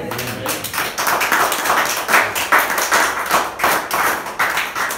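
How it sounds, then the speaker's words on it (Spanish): A church congregation claps together during a Spanish-language service, producing steady, rhythmic claps that stay loud and close for the whole stretch. "Vamos a aplaudirlo."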